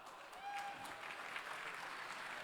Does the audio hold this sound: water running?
no